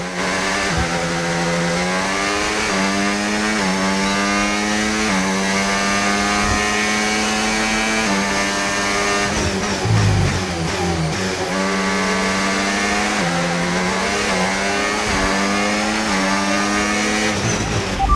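A Formula 1 race car engine in the F1 25 video game revs hard and continuously, its loud high-pitched whine climbing through repeated gear shifts with no voices over it.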